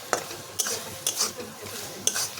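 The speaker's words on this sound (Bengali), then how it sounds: "একটু নেড়ে চেড়ে এটাকে আমি নামিয়ে নেব।" A spoon stirs ground cumin and coriander into an okra and mustard dish in a pan, four distinct scraping clacks against the pan over a low, faint sizzle.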